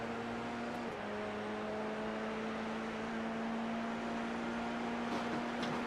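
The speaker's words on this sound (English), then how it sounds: "accelerating through the gears now" Formula 3 race car in a sim-racing British Grand Prix, engine note holding a steady, sustained drone with a clear tonal whine and a brief dip near the start as it shifts up through the gears.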